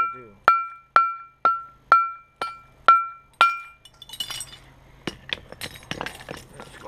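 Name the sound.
flintknapping, pressure flaking stone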